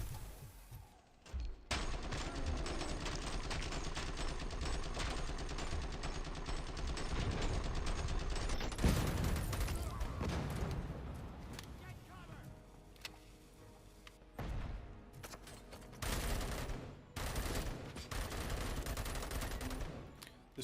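Gunfire from a weapon in a RoboCop game about Alex Murphy, dense sustained bursts of shots forming a loud rattling roar that carries on with short breaks, with faint talk underneath.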